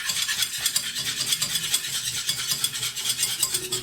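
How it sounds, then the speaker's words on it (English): A whisk beats cubes of butter into a pan sauce with a rapid, steady metallic swish and scrape, repeated quickly and close at hand, with no speech over it. "We're just gonna whisk those in."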